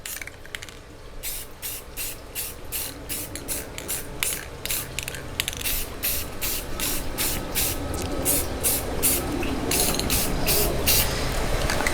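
Short bursts of spray paint hissing from a can, repeated in a quick regular rhythm, close and fairly loud, with faint rattling in between.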